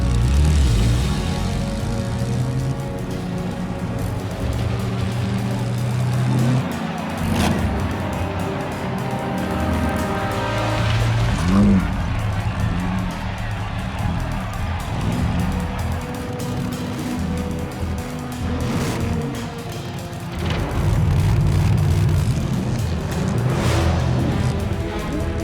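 Race car engines roar together at the start of the 1940 Saarbrücken Grand Prix in the video game The Saboteur, a dense continuous drone of revving motors with shifting pitch, loud and steady throughout with no talking.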